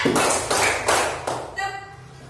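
A quick run of four loud, evenly spaced hand claps from a class focus game, then a voice talking.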